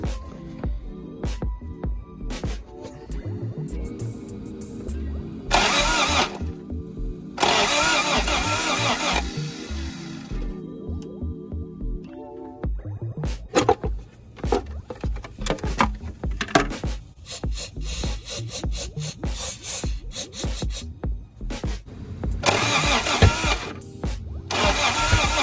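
A 1986 Toyota Corolla SR5 AE86 engine cranks repeatedly in several bursts of starter whirring with clanks and knocks in between, close and moderately loud.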